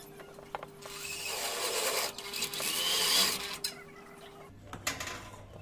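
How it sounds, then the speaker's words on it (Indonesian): Power screwdriver whirring as it drives screws into a light steel (baja ringan) frame for a container-style partition, a sustained mechanical buzz lasting a few seconds with clicks and handling knocks around it. "Lalu kita sekrup."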